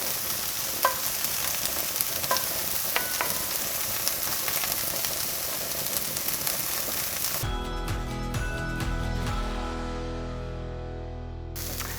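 Onions frying in a pan while being stirred, a loud steady sizzle with scraping and clicking from the spoon, close up; about two-thirds of the way through the texture changes abruptly to a smoother tone that fades out, with no talking.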